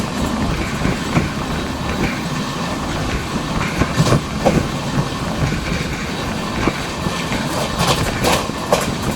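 Amrit Bharat train on its first commercial run from Charlapalli to Thiruvananthapuram, rolling along the rails with a continuous rumble, rhythmic clickety-clack over joints and occasional sharp wheel knocks, heard from inside a coach.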